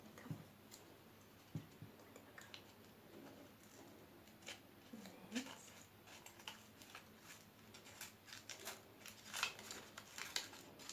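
Scissors snip through material in a series of short, crisp cuts at irregular intervals, close and fairly quiet, with small handling clicks between them and no talk.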